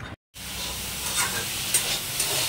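Leafy greens sizzle and hiss in a hot pan, a steady crackling fry with occasional stirring scrapes, close and continuous after a brief silent gap at the start.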